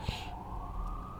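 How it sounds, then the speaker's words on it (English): An emergency vehicle siren wails steadily in the distance outside, a faint continuous tone over low rumbling background noise. "And hear the sirens."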